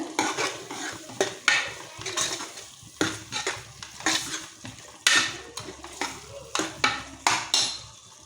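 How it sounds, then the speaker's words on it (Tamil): Stirring and clattering in a pot of simmering Tamil kara kuzhambu as tamarind water is added, with repeated scraping and metal-on-metal knocks in an irregular rhythm, close and fairly loud, no talk. "அடுத்தது புளிஜலம் விட்டுக்கோங்க நல்லா கொதிச்சு வரட்டும்"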